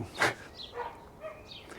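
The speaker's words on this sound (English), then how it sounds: "The dog's not going to stop barking, is there?" A dog barks in a short single burst near the start of an allotment garden, followed by faint, scattered yips or whimpers at a distance.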